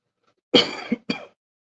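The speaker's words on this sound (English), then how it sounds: "My cough is from my cold and not from the alcohol" Two short coughs in quick succession, close and fairly loud, the first harsher and longer, with no talking.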